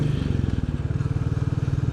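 A motorcycle engine close ahead throbs with a fast, even pulsing beat, loud and continuous, with faint wind and road noise around it.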